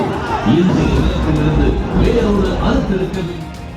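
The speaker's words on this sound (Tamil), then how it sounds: "லைட் டவர் கொடிக்கம்பங்களில் ஏறி சிலர் ஆரவாரம் செய்ய தொடங்கினர்" Large crowd at a VCK political conference, with many people shouting and cheering in a continuous noisy roar and individual voices rising out of the babble.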